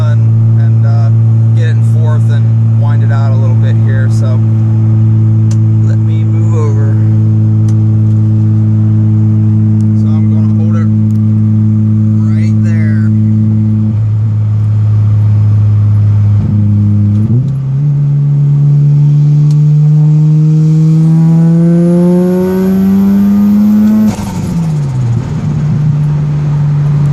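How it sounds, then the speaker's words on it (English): Mazda RX-7 FD rotary engine held in 4th gear, a steady loud drone that climbs in pitch as it winds out hard, with a brief dip and shift-like change partway, close and continuous from inside the car. "So I'm going to try to do a 4th gear pull here."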